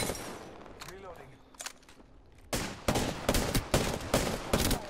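Rapid bursts of gunfire ring out in the Apex Legends video game on PS4, sharp repeated shots crowding the second half after quieter movement sounds and a brief voice early on.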